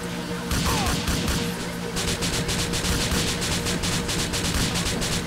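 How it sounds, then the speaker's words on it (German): Rapid submachine gun bursts and a crashing boat explosion from Grand Theft Auto IV form a dense, loud, continuous wall of gunfire and blast noise with no voices. "das Boot explodiert durch ein paar Schüsse einer MP."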